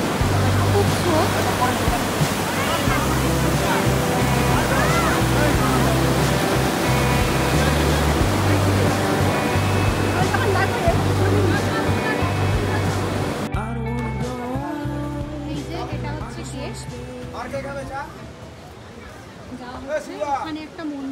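A strong river current rushing in North Bengal, a loud, steady broadband roar of water filling the whole clip, close by, with faint voices occasionally under it.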